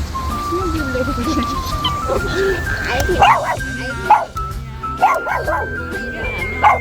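A small dog barks and yips in a cafe in repeated short bursts, close and fairly loud, over chatter and background music, with people talking throughout.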